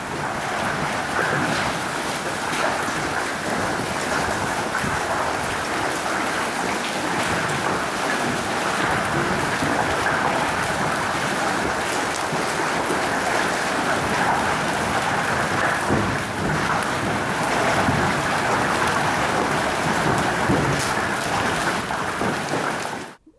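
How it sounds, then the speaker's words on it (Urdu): A hailstorm with heavy rain and thunder, a dense continuous roar of pelting precipitation on surfaces with low rumbling beneath, steady and loud throughout, no voices. "آپ ژالہ باری کی مختصر ویڈیو میں دیکھ سکتے ہیں۔"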